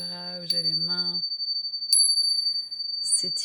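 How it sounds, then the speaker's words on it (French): Meditation bells struck twice, each a clear ringing tone that hangs and slowly fades, with a softer low hum beneath the first; a voice talks briefly at the end. "en entendant les cloches"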